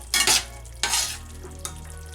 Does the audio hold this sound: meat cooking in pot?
yes